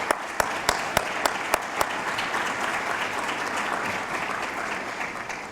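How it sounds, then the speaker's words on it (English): Audience applause for board, executive committee members and officers standing to be recognized at an annual meeting, a steady roomful of clapping opening with several sharp, loud individual claps before settling into a dense, even wash. "if you could give them your applause"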